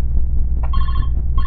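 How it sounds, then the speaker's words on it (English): An in-game phone in Five Nights At Smudger's Remastered rings in two loud bursts of electronic trilling over a low steady rumble, with no speech. "Alright, we get a phone call."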